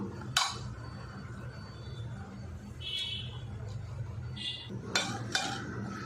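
Boiled tomato and brinjal being mashed in a pot, giving scattered metallic scrapes and clinks of a utensil against the pot, a few sharp bright knocks standing out over a low steady background hum.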